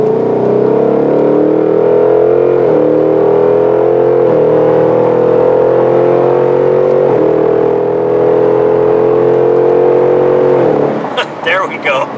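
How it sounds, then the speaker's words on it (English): A 2021 Ford Mustang Mach 1 engine drones steadily, its pitch stepping down through several automatic gear downshifts, then a sharp rev and rattle near the end; loud and close. "Hear a downshift? That sounds great, doesn't it?"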